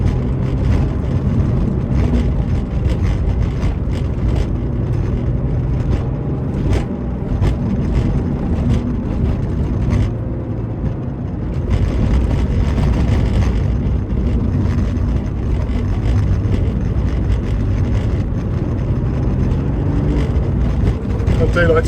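Slate grey 1990 Porsche 964 cruising along country roads, a steady close engine drone and road rumble filling the cabin throughout with someone talking over it.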